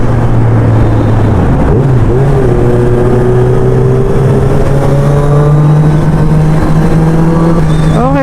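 Kawasaki big bikes, including a Z1000, ride along the South Luzon Expressway, their engines droning loud and steady with rising revs and a brief dip in pitch near the start, wind rush over everything.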